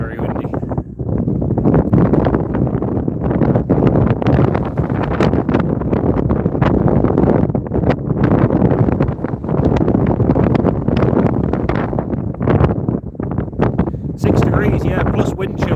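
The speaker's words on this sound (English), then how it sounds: "it is a very, very windy day here." Strong gusting wind buffets the microphone outdoors at Inverness Airport on a freezing day, loud rumbling blasts rising and dropping in waves with brief lulls, while a person talks over it.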